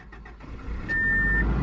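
Subaru car engine starting after a clutch and head gasket repair: a brief starter whir, a short electronic chime, then the engine catching into a steady close idle.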